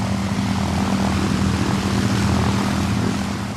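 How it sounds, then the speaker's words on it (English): The four Rolls-Royce Merlin engines of a Lancaster heavy bomber drone loudly and evenly in a close, synchronised throbbing roar that holds steady throughout without any talk. "The sound of 4 Merlins"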